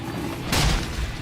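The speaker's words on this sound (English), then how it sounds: "Topple them with some gunfire." Gunfire from combat in Xenoblade Chronicles X: Definitive Edition on Switch 2. A loud, dense burst of shots halfway through sits over a low rumble, then fades into a softer tail.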